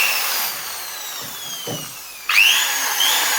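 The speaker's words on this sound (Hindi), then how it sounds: "अभी ऑन कर दिया तो ड्रिल मशीन ऑन हो गई।" Mini drill machine plugged into a homemade modular extension box switches on with a sudden high whine that keeps running steadily after a quiet lead-in with faint handling knocks.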